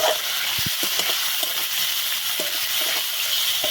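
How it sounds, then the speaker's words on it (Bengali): Tomatoes frying with spices in a pan for a kochur loti (taro stolon) dish give a steady, loud sizzle, broken by a few soft clicks and scrapes as they are stirred, with no voices. "ভালোভাবে এবার টমেটোগুলোকে কষিয়ে নেব মশলার সাথে"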